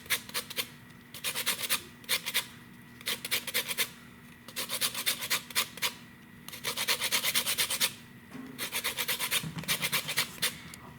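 A lemon scraped against a zester for green tomato cornbread, giving rhythmic bursts of dry, raspy rubbing in quick strokes separated by short pauses, close and fairly loud, with no talk.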